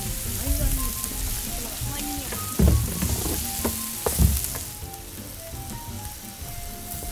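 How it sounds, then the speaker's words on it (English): Onion sizzles in a hot pan with browned garlic as the base for paella, a steady crackling fry close up with a few clinks of stirring and no talking. "Okay, it's been sautéing for a couple minutes."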